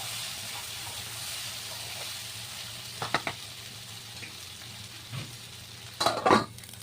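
Prawns sizzling in a pan, a steady hissing fry with a few clattering stirs and scrapes of a utensil, louder near the end.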